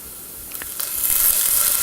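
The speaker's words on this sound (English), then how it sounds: "you're going to want to saute together a little bit of onion, celery, and garlic. You're going to want to do that in a little bit of olive oil" Chopped onion, celery and garlic saute in olive oil, a soft hissing sizzle that swells steadily over a couple of seconds.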